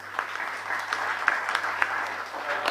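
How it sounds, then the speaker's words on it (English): An audience applauds at a university graduation ceremony with a moderate, even patter of clapping. A few sharper individual claps stand out against the steady sound. "Makofi kwao"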